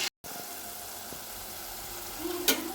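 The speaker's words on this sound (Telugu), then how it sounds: "మసాలా ఈ కలర్లో వేగే వరకు కూడా ఫ్రై చేసుకోవాలి" Masala frying in a pan gives a steady, faint sizzle after a brief cut at the start, with a sharp scrape or clink near the end.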